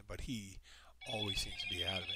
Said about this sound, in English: That was a phone call that came in.